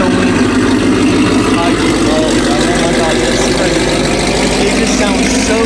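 Idling Ford Coyote V8 with an aftermarket exhaust on a first-generation Mustang setup, a steady, loud, low rumbling burble throughout with no change in pace, echoing slightly off nearby surroundings.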